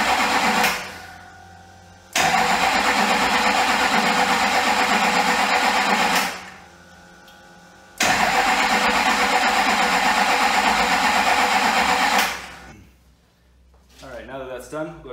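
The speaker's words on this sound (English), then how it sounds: "You should be able to crank the motor over without letting it start." LB7 Duramax diesel truck engine cranking over without starting, two long sustained loud bursts of starter whir with a quieter gap between, close by, after a new 64mm turbocharger install.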